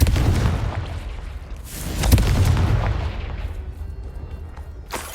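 Confringo and Bombarda spell blasts in Hogwarts Legacy boom out as heavy, rumbling explosions, one sharp burst peaking in the middle and another crack near the end, all without speech.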